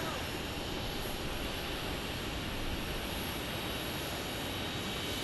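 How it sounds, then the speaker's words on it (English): Delta Airbus A321neo airliner at Phoenix Sky Harbor International Airport, a steady broadband jet engine roar that holds at constant loudness throughout, with a faint voice underneath. "looks like we got an"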